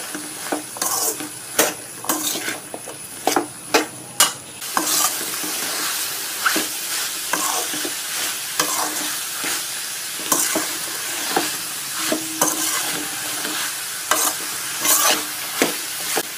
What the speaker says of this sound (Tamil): இப்போ நல்லா வதக்கி விட்டுடலாம்